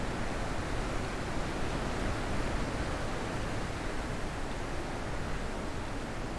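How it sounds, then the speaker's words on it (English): A waterfall in the video game The Witness pours as a steady, loud, broadband rush of falling water that stays unbroken with no other sounds. "It's gonna be loud around the waterfall."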